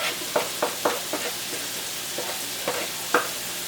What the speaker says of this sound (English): And let's get this onion in here that we chopped up.